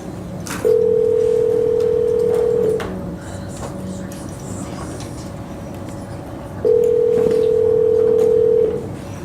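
Telephone dial tone from a West Palm Beach courtroom phone, two steady two-second tones separated by a quieter pause, loud and close over faint room noise.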